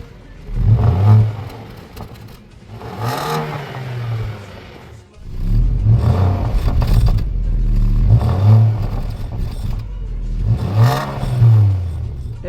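A stock 2.0 naturally aspirated car engine fitted with a turbo-sound device revs in repeated bursts, climbing and falling about every two to three seconds, loud and close with a whooshing whir on each rev.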